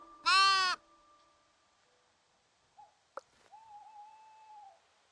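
Sheep in the video game Tiny Glade give a loud, brief bleat at the start, followed by quieter scattered game sounds and a soft sustained tone later, with no talking.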